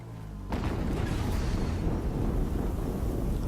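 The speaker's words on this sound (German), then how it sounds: "Noch eine Explosion" In the video game Horizon Zero Dawn, a sudden loud explosion bursts in after a short pause, then a sustained deep rumbling roar that fills the rest of the clip without fading.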